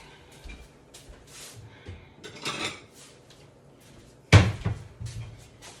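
Dishware clatters and a cupboard opens in a home kitchen as a small plate is fetched, with soft rummaging knocks and one sharp clack of the plate or door near the end.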